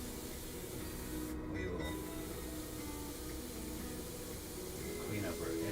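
Steady airbrush hiss running throughout, with a brief spoken phrase near the middle and faint handling noises toward the end.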